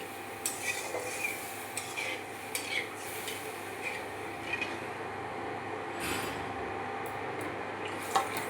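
Gram flour (besan) batter being stirred with a little water in a kitchen bowl, a soft continuous swishing with light, regular taps of the spoon against the sides, close and quiet, with no talking.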